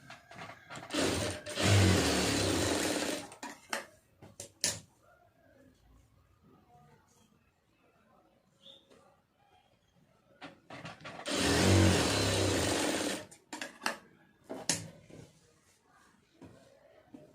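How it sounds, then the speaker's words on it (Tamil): A sewing machine stitches a seam on a lining blouse in two loud running bursts, each a few seconds long, with quieter handling noises and pauses in between. "இது அப்படியே அதில் வச்சு தையல் போட்டுடலாம்"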